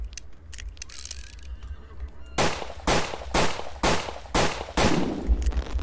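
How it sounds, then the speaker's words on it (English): Hammerless revolver gunshots in a Wild West video game, five loud sharp shots at a steady pace after a quieter opening with faint clicks and ambience. "that was like three headshots in a row"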